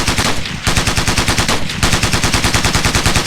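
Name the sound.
gunfire in Ghost Recon Navy SEALs video game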